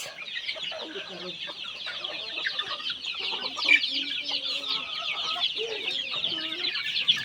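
Native and Red Island chickens with a crowd of chicks on a farm, continuous bright peeping and scattered clucks layered into a busy, close chorus, with brief voices murmuring underneath.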